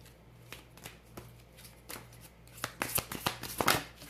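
Tarot cards are shuffled and drawn by hand, starting with light scattered flicks and building into a quick run of riffling card snaps near the end, close and clear with no talking.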